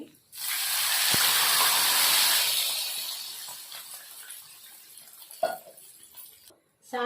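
Water poured into a hot pan of masala upma with fried cashews and dried red chillies bursts into a loud steamy hiss that slowly fades, followed by a couple of small knocks.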